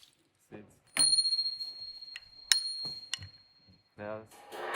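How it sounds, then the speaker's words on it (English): Small bells fixed to a drum kit's mini timbal ring out in a few bright, separate strikes with a sustained metallic shimmer, mixed with soft handling knocks and brief talk between hits. "Bells."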